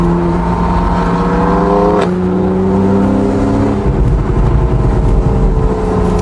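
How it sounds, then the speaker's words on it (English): A BMW M4's engine roars loud and close throughout, steady revving tones with a gear shift about two seconds in, while a Porsche 911 gives chase on the road. "this M4 sounds amazing."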